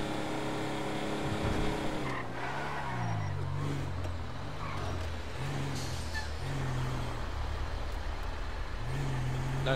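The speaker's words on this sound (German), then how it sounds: "Wieso, weshalb, warum fahre ich das Auto hier rum?" Car in the video game GTA Online driving hard, a continuous engine roar shifting in pitch with tire squeals and skidding noise throughout, loud and close, with no talking.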